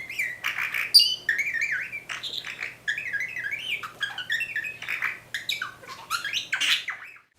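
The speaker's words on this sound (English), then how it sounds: "That bird is the budgerigar, or Budgie, native once again to Australia." Budgerigar chatter: a run of rapid warbling chirps and scratchy squawks, close and fairly quiet, coming in short overlapping phrases throughout.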